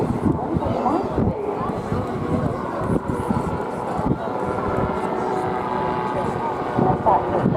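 A Calidus autogyro flies a display at the 2023 Clacton on Sea airshow, its engine and rotor producing a steady, sustained drone with wind noise across the microphone.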